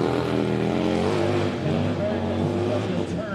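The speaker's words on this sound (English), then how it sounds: "this motor is very deep in sound and very unique" Deep, throaty Harley-Davidson motorcycle engine running at a hill climb event, a steady loud rumble with shifting tones, heard alone without talk.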